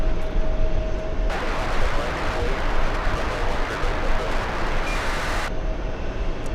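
A Delta jet airliner rumbles steadily on the runway at JFK, a loud broadband engine roar holding for several seconds with a brief faint tone near the start and no talk over it.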